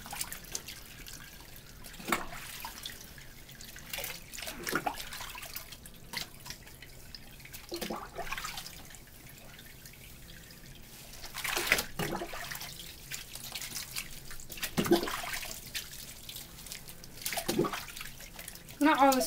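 A garden hose rinses a wet Sheltie, its steady water splashing and dripping over fur close by, rising and falling in spurts, while people talk over it throughout.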